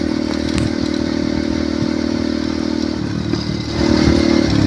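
A motorcycle engine drones steadily while tires crunch and clatter over a loose gravel road of coral stones, the engine swelling louder near the end.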